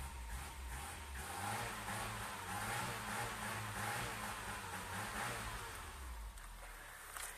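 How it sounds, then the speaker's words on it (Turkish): A car engine runs steadily at idle after a crankshaft sensor replacement, a continuous low rumble with a constant hum that holds for several seconds and eases slightly near the end. "Yine motorun içinde de bir gösteriş yapalım. Araba biraz çalışsın."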